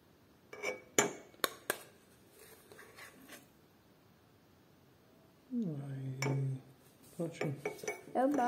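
Spoonfuls going into a cup, with several light metallic clinks and taps of a spoon against the cup, interrupted by a stretch of talking.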